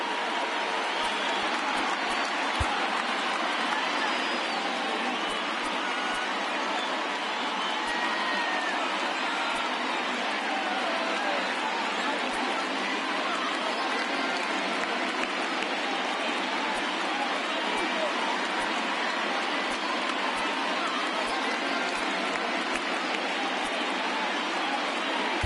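Stadium crowd noise from the baseball video game MLB The Show 19, a steady, dense roar of cheering spectators that runs unbroken and fairly loud throughout, with no talk over it.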